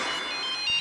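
A phone ringtone chirps in a short steady burst, fairly clear and close, with no talking over it.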